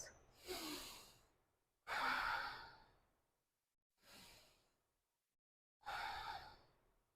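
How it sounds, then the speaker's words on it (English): Slow, deep breathing during a yoga pose, half saddle stretch: four long airy breaths with quiet pauses between, close and soft, each exhale rising and fading gradually. "Let's go 3 more breaths."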